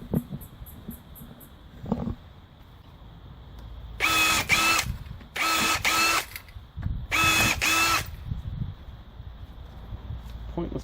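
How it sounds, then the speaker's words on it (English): A power drill whirs in three short bursts of about a second each, separated by pauses, with quieter clicks and handling noise between them. "Pointless drilling."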